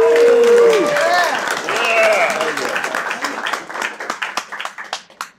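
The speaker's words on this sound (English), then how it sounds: "Round of applause for Team Yeah." Cheers and applause from an audience for a team at a talk about game companies and data, loud at first with voices, then fading into scattered individual claps.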